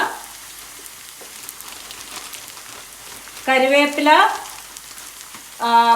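Curry leaves fry in oil with a soft, steady sizzle that swells into louder crackling bursts as the leaves hit the pan, while a voice talks over part of it.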